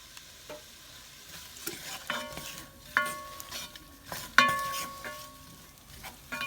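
Onion frying with bacon in a pot: a steady soft sizzle under repeated stirring, with several sharp metallic clinks of a utensil against the pot.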